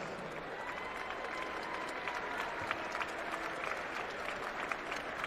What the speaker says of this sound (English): Let's give them the big Northeast cheer